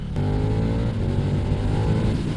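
KTM 1290 Super Duke with a Stage 1 exhaust accelerating into a wheelie, its engine blaring loud and near as a continuous hard-revving growl from start to finish.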